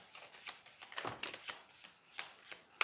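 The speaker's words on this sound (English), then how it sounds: "shuffle through the whole deck" A deck of cards being shuffled up close, a quick run of soft riffling flicks and taps with a sharper snap at the end.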